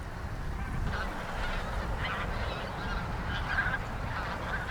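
A flock of snow geese honking on farmland feeding grounds at Cheonsu Bay, many overlapping nasal calls at moderate distance over a low rumbling background.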